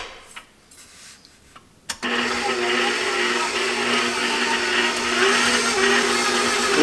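A stand mixer kneading buttery dinner roll dough starts up after a quiet moment, then runs as a loud, steady whirring drone with a faint rhythmic slap of dough throughout.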